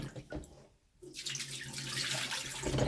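Water poured into a basin for washing a silk scarf: a brief splash, a short pause, then a steady rushing pour that grows louder, close by.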